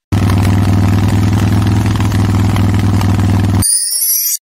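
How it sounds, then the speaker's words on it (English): A motorcycle engine runs loud and steady with a throbbing, rapid pulse, then cuts off abruptly, leaving a brief high ringing tone. "Motorcycle."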